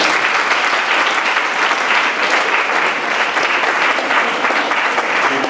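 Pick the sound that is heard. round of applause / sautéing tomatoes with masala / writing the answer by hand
round of applause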